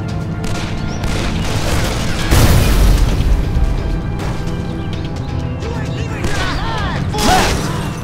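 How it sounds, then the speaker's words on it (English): Gunfire rattles in the shooter Call of Juarez: The Cartel, loud close bursts and booming shots scattered over dense game noise, with a heavy blast early on and voices talking beneath. "they're shooting at me!"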